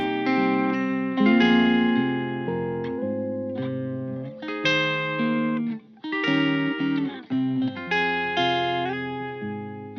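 An electric guitar loop plays through a Strymon Cloudburst reverb pedal, sustained chords and notes blooming into long, dreamy ambient tails with short breaks between phrases, loud and close with no talking.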